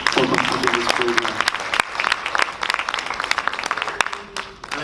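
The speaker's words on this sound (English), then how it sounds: "I'm going to ask you to give yourselves a round of applause for completing this program" A graduation crowd at a parent class ceremony claps in uneven, moderately loud applause that thins toward the end, with voices speaking over it.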